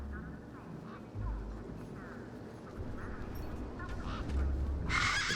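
A bird squawks and honks in the Beyond a Steel Sky adventure game, with short harsh calls over a steady, noisy game soundtrack.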